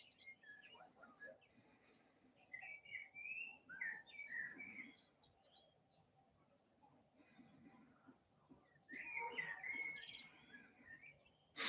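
Birds singing outdoors in short bursts of chirps and whistled phrases at moderate distance, separated by quiet gaps, over a faint low background hum.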